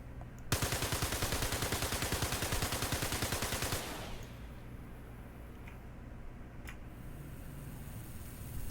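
Rapid automatic gunfire from a weapon in the space game Star Citizen, a fast steady stream of loud shots lasting a few seconds, then cutting off to quieter background hum with a couple of faint clicks.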